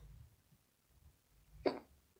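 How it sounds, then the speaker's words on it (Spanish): A single sharp hiccup from a woman during a makeup session, brief and fairly close, standing out from a quiet room with faint low background noise. "me dio hipo otra vez"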